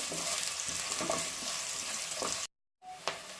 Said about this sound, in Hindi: इसे हम अच्छी तरह से फ्राई कर देंगे।